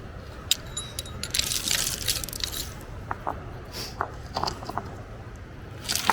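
Metal chisel tapping and scraping at a cracked fossil slab, giving a scatter of sharp clicks and gritty scrapes of varying loudness, some close bursts and some lighter taps, with no talking.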